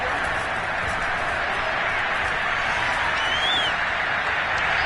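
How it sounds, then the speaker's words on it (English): Crowd applause and cheering from a Madden 22 American football video game fill the clip with a steady, continuous wash of clapping, with no talk. "We're going to give out a little applause on that play."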